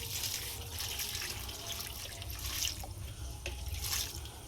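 Water being poured onto the soil around a newly planted mango sapling outdoors, a soft continuous trickle and splash with a few drips, fairly faint against steady low background rumble.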